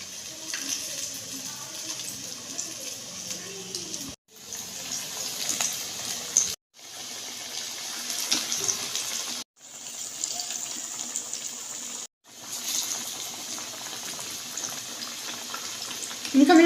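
Coated pakoras frying in oil over medium heat, a continuous close, bubbling hiss that cuts out abruptly in several short gaps.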